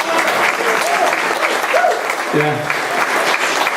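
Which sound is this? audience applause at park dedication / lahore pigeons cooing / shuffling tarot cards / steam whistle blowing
audience applause at park dedication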